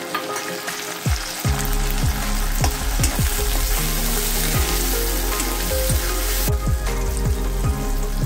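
Chopped tomato drops into golden-brown onion frying in a pan, setting off a loud continuous sizzle with bursts of crackling and stirring that carry steadily to the end, with no voices.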